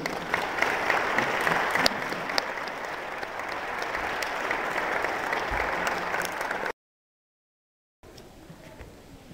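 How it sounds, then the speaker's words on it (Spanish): Sustained congregational applause fills a church during a Spanish-language sermon, a dense, even wash of many hands clapping that runs several seconds, breaks off to silence, then resumes more faintly. "Dale fuerte el aplauso al Señor"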